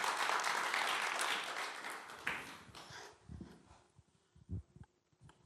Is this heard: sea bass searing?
no